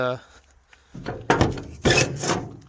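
A tailgate door on an International S1900 dump truck is worked by hand, giving a few knocking clunks and scraping rattles up close, with a voice briefly at the start.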